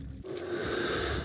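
AS VAL rifle reloaded in a shooter game gunfight, a close, dry scraping and rubbing of metal parts over about a second, alone without talk.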